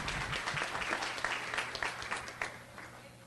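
A board meeting audience applauds award winners at a moderate level, a dense, steady patter of many hands that continues without a break throughout.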